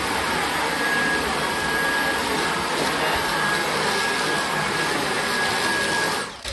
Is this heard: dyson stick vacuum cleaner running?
yes